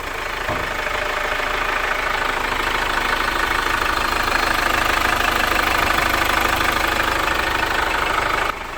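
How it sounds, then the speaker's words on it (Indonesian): A diesel Chevrolet Captiva runs at idle after its injectors were cleaned, a steady close rattling diesel clatter with a hard knocking texture that holds evenly throughout, loud and unbroken. "Nah, sekarang coba kita starter mobilnya."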